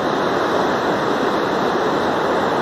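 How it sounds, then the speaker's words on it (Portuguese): The flooded Panelas River rushes after heavy rains near Belém de Maria, Pernambuco, a loud, constant roar of water with no breaks, with no voices. "O volume de água continua subindo,"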